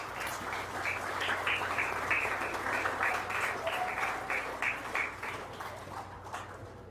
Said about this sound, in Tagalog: Palakpak naman na malakas